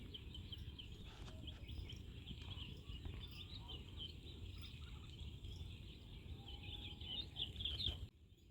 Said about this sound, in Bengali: আর পাখিদের কিচিরমিচির মনে হচ্ছে এখানেই ঘর বানিয়ে থেকে যায়